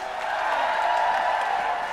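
A large outdoor crowd at an orchestra concert in George Square, Glasgow, gives a steady wash of cheering and applause, dense and sustained throughout, with no distinct voices standing out.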